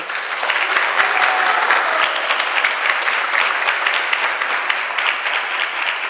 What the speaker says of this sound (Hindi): सारे बजाओ ताली।